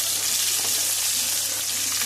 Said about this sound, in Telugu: ఆనియన్ లైట్గా ఫ్రై అవ్వాలి.